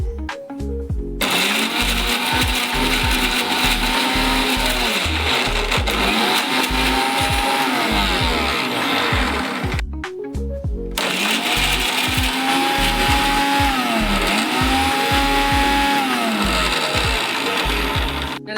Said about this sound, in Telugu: విత్తనాల్ని సపరేట్ చేసిన తర్వాత దీన్ని మిక్సీ పట్టుకోవాలి